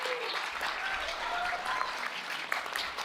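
Applause in a Senate confirmation hearing room, a sustained, fairly soft patter of many hands with a few scattered voices and whistle-like squeaks mixed in.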